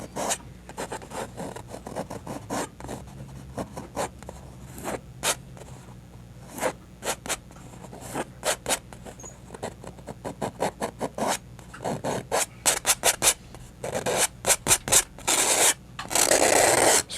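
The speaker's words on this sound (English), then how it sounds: "you want to scrape it down the bare canvas right underneath the mountain" A knife scrapes oil paint down bare canvas beneath a painted mountain, in a series of quick, close rasping strokes that grow denser and louder toward the end, with no voices.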